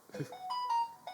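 A mobile phone ringtone from a Samsung handset, a short bright melodic tone with sustained notes, fairly quiet, following a brief bit of voice at the start.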